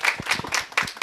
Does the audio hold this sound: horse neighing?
no